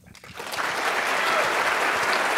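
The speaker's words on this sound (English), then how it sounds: "Round of applause for the low-carb cardiologist, Bret Scher." Conference audience at a keto health event bursts into applause that swells quickly and holds as a dense, steady clapping roar, close and loud, with no talk over it.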